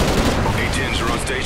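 Rapid gunfire from the Call of Duty Ghosts video game, a dense, continuous burst of shots close up that fills the whole moment, with game noise and some voice-like sound mixed underneath.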